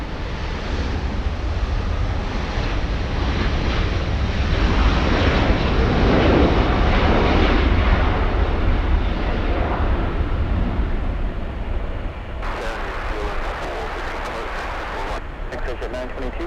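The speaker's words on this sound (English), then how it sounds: "looks like exec jet is exiting the runway" An exec jet rolls off the runway at LAX with a steady, broad jet roar that swells a little and then eases, heard from a distance with wind rushing across the microphone and some background talk.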